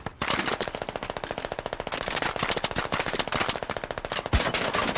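Rapid machine-gun fire in the video game Squad, a dense and steady stream of shots lasting the full five seconds, with one sharper crack near the end.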